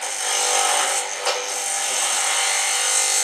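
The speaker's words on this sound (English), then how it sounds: "So I make a cut just like with the skew." A wood lathe spins steadily as a turning tool cuts into the wood, giving a continuous loud hissing shear that holds its level for a few seconds with a brief catch in the middle.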